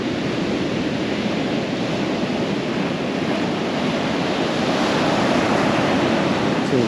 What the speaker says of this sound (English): Some pretty good little breakers.